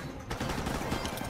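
Rapid automatic gunfire sprays in Call of Duty 4: Modern Warfare Remastered, a dense burst of shots rattling continuously at moderate loudness for about a second with no talking.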